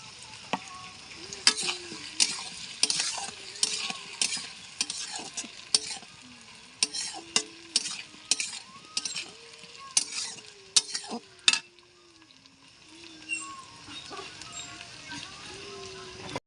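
Cornflour batter with pepper meets paneer in a hot wok for chilli paneer, bursting into a sizzle while a spatula scrapes and clacks in quick irregular strokes against the metal, then settling to a softer fry.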